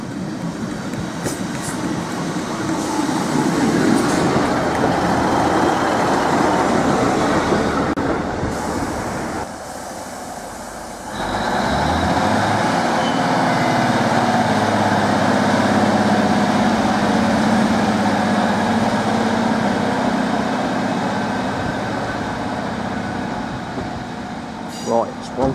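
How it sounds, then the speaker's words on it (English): Class 153 diesel multiple unit departing on a line to Lowestoft, loud close engine rumble and rolling wheels that build and then settle into a steady drone, with a voice heard over it. "Right, 153306 has departed, continuing its journey to Lowestoft."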